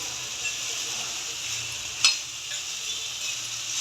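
Food frying in an AMC cooker on low heat, a continuous moderate sizzle with one sharp metallic clink midway.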